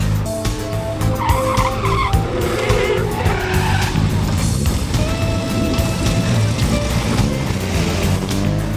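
Several cars, among them a Citroen, a Hillman Hunter and a Land Rover, plus a coal truck, drive one after another over a pothole on a country road. Loud, continuous engine noise and tyre rumble fill the scene close by, with no talk.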